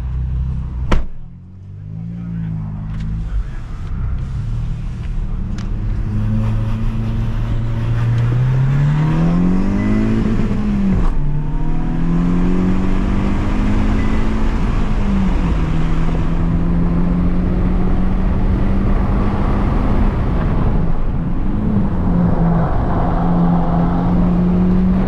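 A 650hp Hyundai IONIQ 5 N drifting on a track, a loud sustained electric drive whine rising and falling in pitch through long slides, with tire and road roar underneath.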